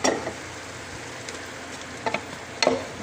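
Garlic, onion, bell peppers and hotdog sauté in a pan with a steady soft sizzle, broken by a few quick scrapes and taps of a spatula, close and moderately quiet, no talk.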